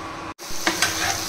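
Rice fries in a pan for hilsa pulao, giving a close, constant sizzle with a brief dropout and a couple of soft stirring scrapes.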